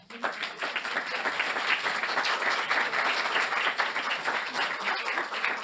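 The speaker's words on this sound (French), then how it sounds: "On va l'applaudir bien fort." Audience applause at an association's general assembly, a loud, dense and sustained burst of clapping from a sizeable crowd that starts abruptly and carries on steadily to the end.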